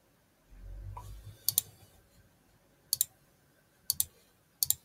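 A computer keyboard key is pressed with crisp, sharp clicks in quick pairs, repeated four times at intervals, close and quiet against near silence.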